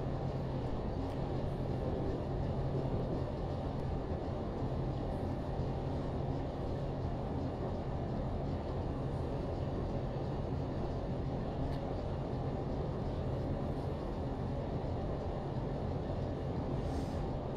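Train accelerating in the Open Rails simulator game on the Ferrovia do Aço line, a steady low rumbling drone of the locomotive that holds evenly throughout at moderate level.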